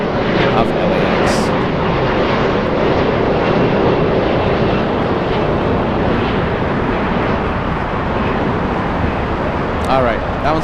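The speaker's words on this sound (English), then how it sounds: "This one is taxiing, making its way to the south side of LAX." An Air Premia airliner taxis at LAX, its steady broadband engine roar holding throughout at close range, with faint talk over it.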